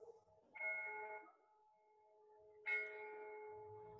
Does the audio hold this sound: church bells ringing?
yes